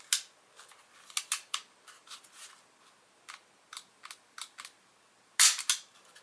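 Sharp, dry clicks from the trigger of a Tanio Koba USP .40 S&W Tactical airsoft pistol, scattered irregularly, close and fairly quiet, with one louder click burst near the end; no talking.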